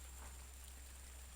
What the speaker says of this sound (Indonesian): Karena ini hujan cuacanya.